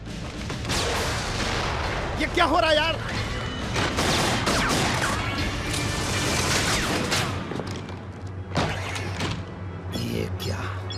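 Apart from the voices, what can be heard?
gunfire sound effects in a film scene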